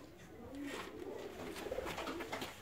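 Pigeons coo in a loft of fancy breeds, soft rolling throaty calls overlapping at moderate distance over a low murmur of background noise.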